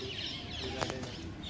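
Flock of parrots, sparrows and pigeons flying together at the 800-year-old Sufi dargah in Firozabad, heard as a faint outdoor bird call or two over steady background ambience.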